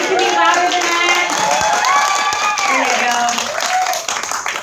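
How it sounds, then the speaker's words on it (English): Crowd applause and cheering at an elephant show at the Oklahoma City Zoo, steady clapping under loud voices and shouts that carry on throughout and thin out toward the end. "Give them a big round of applause."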